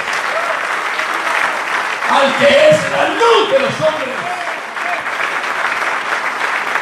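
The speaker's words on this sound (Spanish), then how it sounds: "den un aplauso al Señor esta mañana" Church congregation applauding during a Sunday morning service, a broad sustained wash of clapping that swells in the middle while a preacher's voice speaks over it.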